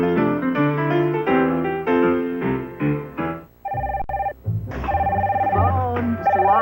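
A telephone rings during a Phillies–Cubs baseball broadcast, heard as bright repeated melodic ringtone bursts with short gaps, loud and close, followed by a sustained tone and further ring phrases.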